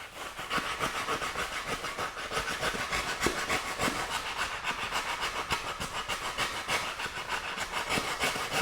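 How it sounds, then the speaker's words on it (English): Steady, busy scratching and rubbing at close range as the shiny foam surface of a turkey taxidermy form is roughed up, a continuous rhythmic scraping texture with no voices. "we need to scratch it up first so that when we bondo or insert in place, it'll stick"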